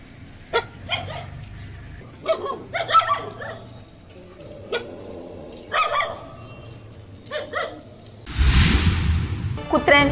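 Stray dogs bark in a town street in Palus, Maharashtra, giving a string of sharp barks and yips spread across the stretch, some closer and louder, with a burst of rushing noise near the end.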